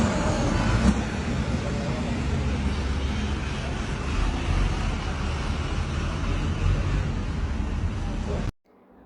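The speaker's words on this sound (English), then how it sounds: "This is a school bus." A school bus passes on the road with a broad, loud roar of engine and tyre noise that holds steady before cutting off abruptly.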